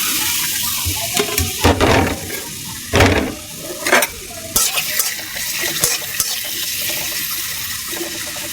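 Chopped onion and green chilli fry in a pan for a potato singara filling, with a steady sizzle broken by several sharp bursts of stirring and scraping.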